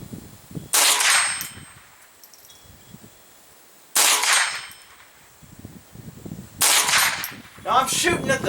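Three sharp shots from a scoped .22 rifle fired at a target ring out a few seconds apart, each a loud crack with a short ringing tail, and faint ambient noise fills the gaps.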